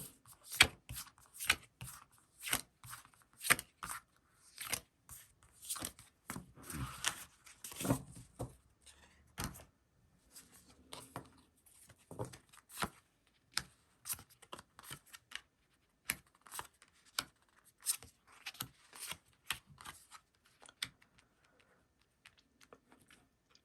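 Tarot cards shuffled and drawn by hand, a long run of soft, crisp clicks and slaps in irregular rhythm, quiet and close, with brief busier flurries early on thinning to sparse taps.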